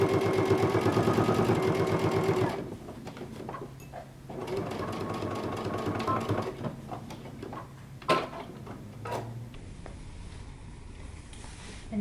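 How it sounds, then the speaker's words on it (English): Close up, a sewing machine stitches a jumpsuit collar seam at 5/8 inch, starting in a fast steady whir, then continuing in slower bursts of rhythmic ticking with pauses and a few sharp clunks. "And then we're going to stitch it down. I'm going to be sewing 5/8 of an inch seam allowance."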